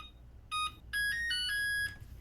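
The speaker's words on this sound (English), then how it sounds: "Y'all tired of hearing my timer yet?" Kitchen timer beeping while tea steeps, a short burst of electronic tones and then a longer run of repeated bright beeps, fairly loud and alone with no talking.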